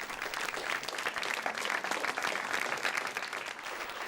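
Sustained audience applause at a public event, a dense, even roar of many hands clapping continuously for several seconds at moderate loudness.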